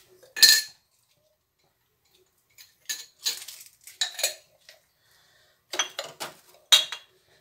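Cutlery and dishes clinking and clattering while being washed in a home kitchen during cooking, several separate bursts of clinks spread across the clip with quiet gaps between them, close and fairly clear.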